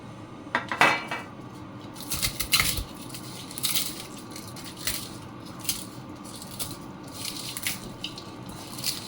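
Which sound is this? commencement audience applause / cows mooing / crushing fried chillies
crushing fried chillies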